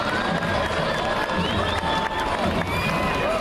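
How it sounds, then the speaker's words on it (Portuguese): A crowd at the 2018 civic-military parade in São Paulo claps and cheers continuously, a dense wash of applause with scattered shouts, with a voice faintly mixed in. "Uma salva de palmas para os grupamentos da Força Aérea Brasileira"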